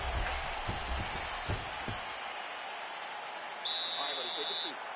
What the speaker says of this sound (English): That horn sound means we have reached the end of round one.